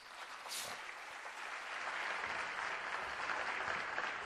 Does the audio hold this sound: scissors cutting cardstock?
no